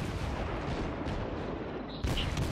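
Tier 3 German cruiser guns fire in a naval battle game, a dense booming roar that swells as another heavy salvo cracks out near the end.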